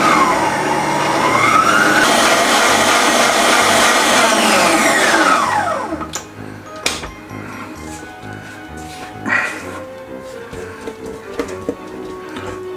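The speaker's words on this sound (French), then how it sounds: "On mélange par étapes" An electric mixer whirs loudly through red velvet cake batter with cocoa powder, its motor pitch rising and falling, then cuts off, leaving scattered light clinks of utensils against the bowl.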